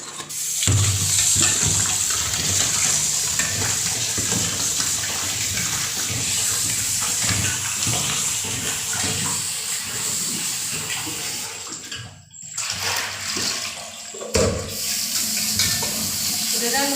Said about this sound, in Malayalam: ഇനി നമുക്കതൊന്ന് വാഷ് ചെയ്തെടുക്കാം കേട്ടോ